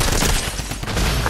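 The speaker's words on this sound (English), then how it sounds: "Got him with the drum gun, let's go." A drum gun in Fortnite fires a loud, rapid burst of gunshots that runs the whole short moment, close and punchy with no talk over it.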